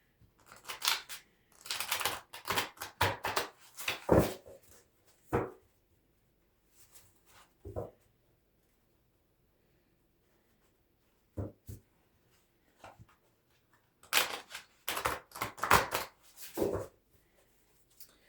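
Bursts of quick riffling tarot card shuffles, close and crisp, in two main flurries with a few isolated taps and a long quiet gap between them.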